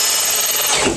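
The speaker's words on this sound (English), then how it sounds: "we're going to drill a hole right under there" A power drill boring a hole in a Jeep Wrangler, giving a steady loud whirring grind for about a second, close by, that tapers off at the end.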